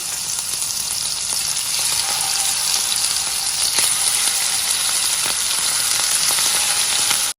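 Thin red beef steak slices cut from the thigh sizzle steadily in butter in a frying pan, a dense, loud hiss throughout with faint crackles and small pops, ending abruptly.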